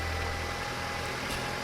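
A car engine idles at tick over during an exhaust back pressure test for a blocked catalytic converter, giving a steady low hum with no change in revs and no talking.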